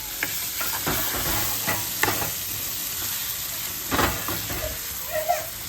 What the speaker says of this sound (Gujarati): ચમચા વડે હલાવી દેવાનું છે.